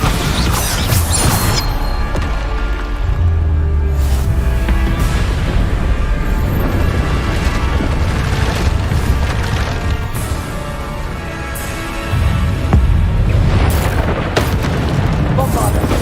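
Repeated Bombarda spell explosions in Hogwarts Legacy, loud booms and crashes bursting every few seconds amid busy combat noise, with a voice talking at times.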